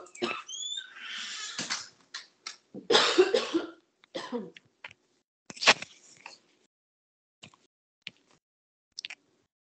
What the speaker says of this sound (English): I just had a cough attack